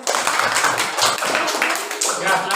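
Children in a classroom clapping together for a student group, a steady burst of hand claps throughout, mixed with some voices.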